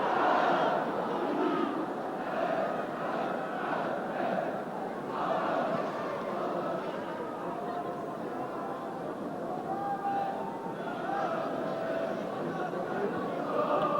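Crowd of about 24,000 at White Hart Lane for a Tottenham versus Hajduk Split European Cup Winners' Cup night, a continuous distant roar with swelling chants and cheers across the stadium.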